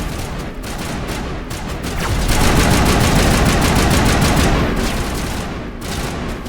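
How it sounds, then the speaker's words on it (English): Sustained automatic gunfire in the video game Mass Effect, dense rapid bursts of shots forming a loud continuous rattle that swells in the middle and keeps going throughout. "they're still shooting at something?"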